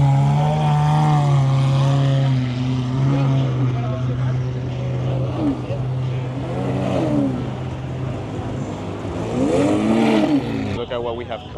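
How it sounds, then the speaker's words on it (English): A Bugatti Chiron rolls into an exotic car meet, its engine note swelling and surging in wavering revs as it draws near, while people talk nearby over the steady drone. "Look at what we have coming in, Bugatti Chiron"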